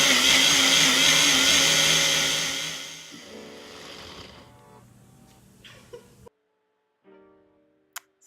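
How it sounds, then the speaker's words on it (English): A Ninja blender blending a sauce whirs loudly at full speed, then winds down and stops, followed by a few clunks and handling sounds in near silence. "if you've ever not shut your Ninja blender and went to go blend it"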